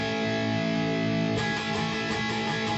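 Distorted electric guitar strumming a steady down-up pattern for a song, dense and continuous with a brief change in chord partway through.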